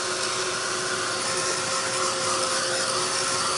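A handheld heat tool drying ink on a journal page makes a steady, close whirring hiss that holds at an even level throughout, with no talking.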